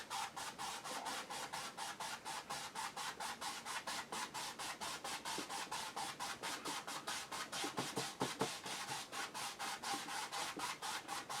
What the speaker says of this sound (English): I'm just going to very lightly do crisscross strokes over the whole lot